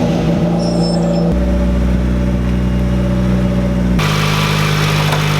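A turbocharged Honda Civic EG hatchback runs at idle nearby, a steady mid-low engine drone that shifts pitch slightly a couple of times.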